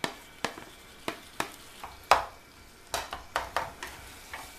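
Mashed eggplant fries in a pan while a spatula stirs it, producing a series of sharp scraping knocks against the pan over a soft sizzle, close and irregular.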